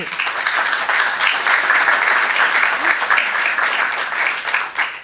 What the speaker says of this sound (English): One more applause for these guys.